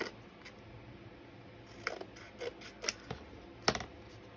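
Scissors trim paper for a handmade garden journal, making faint, close, scattered snips and crisp clicks spread irregularly over a few seconds in a quiet room.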